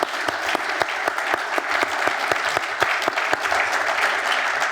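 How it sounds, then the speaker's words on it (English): A conference audience gives steady, dense applause for a Chevron chair and CEO, a continuous patter of many hands clapping at moderate volume throughout with no speech over it. "give you a round of applause"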